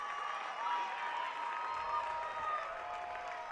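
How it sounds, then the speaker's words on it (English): Dominican fans at a WIAA high school softball game cheer and clap, a steady, fairly distant wash of applause and crowd noise with no breaks. "The Dominican faithful cheering"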